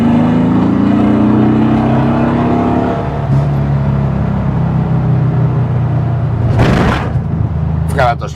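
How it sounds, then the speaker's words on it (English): A 1974 VW Beetle on a test drive, its engine note rising and then easing off as the car speeds up and slows, with a persistent whine, loud and close, cut by a couple of sharp bursts of noise. "Acceleration and deceleration sounds good."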